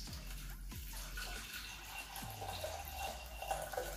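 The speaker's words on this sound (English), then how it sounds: "add your clean drinkable water to it." Clean drinking water poured into a pot of groundnuts, a steady close splashing and trickling pour with a few drips, heard alone.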